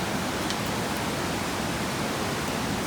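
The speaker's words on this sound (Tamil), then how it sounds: "வெறும் ஃபால்ஸோட இந்த ரிவர் ஓடுறதோட சவுண்டு மட்டும்தான் எங்களுக்கு கேட்குது" A waterfall and river rush through a forest near Bonacaud, a steady, dense roar of flowing water that fills the whole stretch without pause.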